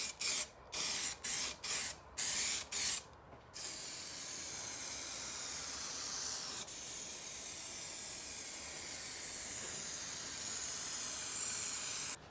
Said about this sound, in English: I thought to save time I'd spray the whole board and make it go tacky